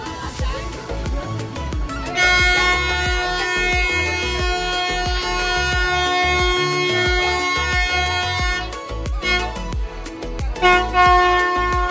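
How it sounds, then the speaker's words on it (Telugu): The Nilgiri toy train pulls into Udhagamandalam station, sounding a long sustained horn over rumbling wheels and clanking cars, with a second horn blast later and the sound staying loud and close. "టాయ్ ట్రైన్ వచ్చేస్తుంది చూడండి"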